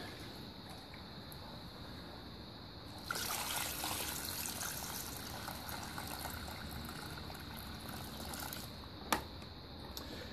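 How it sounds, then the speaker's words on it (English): Water runs into a grey water system container fitted with a submersible pump and float switch, in a steady trickling stream that starts after a few seconds. A single sharp knock comes near the end. "So I'm gonna add some water in there"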